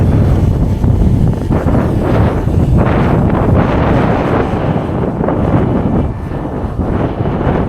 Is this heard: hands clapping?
no